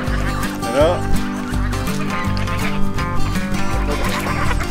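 Geese honking repeatedly amid a busy, noisy background with overlapping tones, fairly close and steady throughout.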